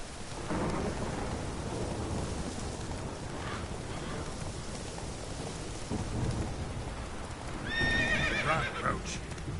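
Roach the horse in The Witcher 3 clip-clopping with a whinny near the end, under rain and rolling thunder, while a voice talks over the game audio.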